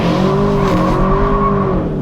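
2022 Kia K5 GT launching hard from a standstill, tires squealing loudly over a strained engine roar, close and continuous for about two seconds.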